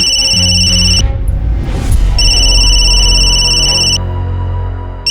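A telephone rings in a Hindi family drama scene, with steady electronic ringing tones that break off briefly and resume, sounding over a continuous background music bed.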